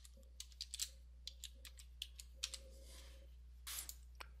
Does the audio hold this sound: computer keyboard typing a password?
yes